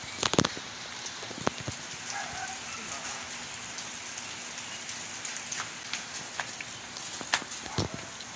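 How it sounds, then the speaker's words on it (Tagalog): Steady rain patters on a surface nearby, a continuous hiss punctuated by louder individual drips and taps, with faint background noise underneath. "Patila lang ulit ng ulan."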